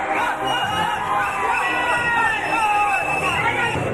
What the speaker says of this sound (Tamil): பார்வையாளர்கள் அனைவரும் கரகோஷம் எழுப்பி உற்சாகப்படுத்தினர்